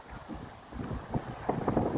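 Sea wind buffeting a microphone on a seaside bridge, a steady rumbling gust noise with stronger bursts toward the end, loud and close, no talking.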